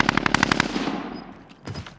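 Rapid rifle fire from the 3-Line Rifle in the video game Call of Duty: Warzone: a loud burst of about seven close shots, then a decaying tail and a couple of fainter shots.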